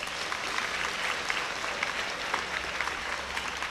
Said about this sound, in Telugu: వాళ్ళకి ఒకసారి క్లాప్స్ కొట్టండి